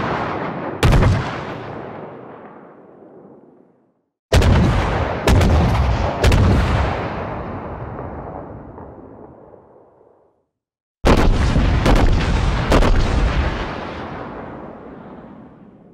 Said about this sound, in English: all shells sound different, all guns sound different